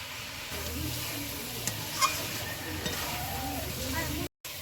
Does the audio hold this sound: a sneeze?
no